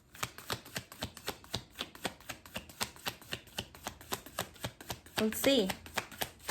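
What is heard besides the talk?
shuffling tarot cards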